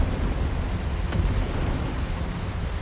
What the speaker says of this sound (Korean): 하지만 폭발하는 제철소.